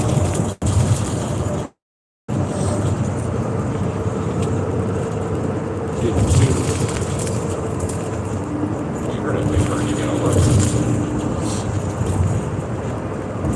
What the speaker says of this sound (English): There's that loud road again.